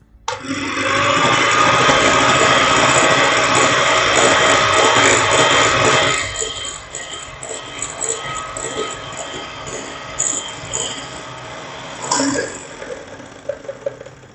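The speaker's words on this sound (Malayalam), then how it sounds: "അപ്പോൾ നമ്മൾ ഈ മുട്ടയുടെ മിക്സ് വൈറ്റ് കളറാകുന്നിടം വരെ നമുക്ക് നന്നായിട്ട് അടിച്ചെടുക്കണം." An electric mixer whips eggs and sugar for a vanilla sponge cake, a loud continuous whirr for about six seconds before it stops, then quieter clatter and bowl sounds follow.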